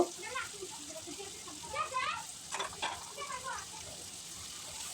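Jackfruit seeds tipped into a hot pan and stirred, with a steady sizzle of frying broken by scraping stirs at close range while a voice speaks intermittently.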